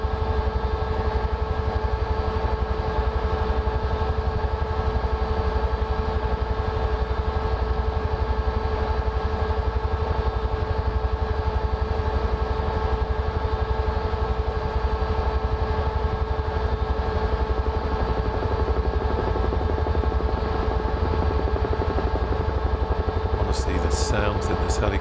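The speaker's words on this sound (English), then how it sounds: "Sounds in this helicopter are just so" A Huey helicopter flying in Microsoft Flight Simulator 2024, a loud, steady rotor and turbine drone with constant engine tones running throughout, close and unbroken.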